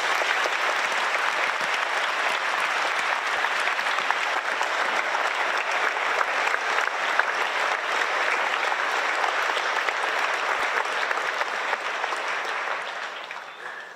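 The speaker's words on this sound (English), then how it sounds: "Please join me in one more round of applause for our veterans." A large crowd at a Veterans Day celebration gives a sustained round of applause for veterans, dense even clapping lasting about fourteen seconds before tapering off.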